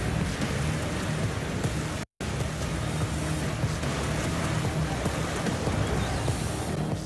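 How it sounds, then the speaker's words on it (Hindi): Heavy torrential monsoon rain pouring down in Sindh during flooding, a dense steady roar of rainfall hitting surfaces with a low rumble beneath, continuous and loud apart from a brief cut. "अंदरूनी सिंध में मूसलाधार बारिशों ने तबाही मचा दी"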